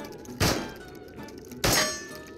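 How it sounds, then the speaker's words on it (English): Two sharp, loud metallic shots ring out about a second apart as a gun fires at a target in the VR game Into The Radius, each followed by a short fading ring, and no one speaks. "Shoot the target until the mag is empty"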